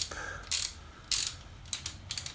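Ratchet on a 1996 Honda PH16A VTi engine build clicks in short bursts as bolts are tightened, three to four quick clustered ratcheting runs, close and fairly loud against a quiet workshop background.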